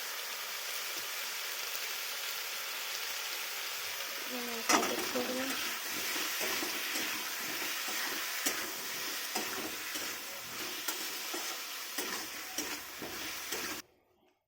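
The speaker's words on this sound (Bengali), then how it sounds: "এই যে নাড়াচাড়া করে জল দিলাম" Spices and water are stirred in a pan of fish curry, giving a steady loud sizzle and bubbling hiss with scattered scraping clicks throughout, ending suddenly with no voices.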